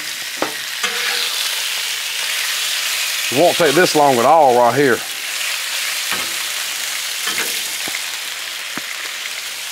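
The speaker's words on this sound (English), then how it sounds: "Dump your meat on here. Oh yeah, listen to that sizzle." Loud, steady sizzling of cheesesteak meat frying on a hot Blackstone griddle, with someone speaking briefly over it and a few scraping clicks.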